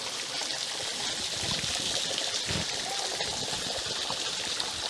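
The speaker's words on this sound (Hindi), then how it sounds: "यहाँ का झरना गिर रहा है ऊपर से।" Water cascades from above inside a cave, producing a continuous rushing and splashing wash with a few louder gurgling surges, moderately close and steady throughout.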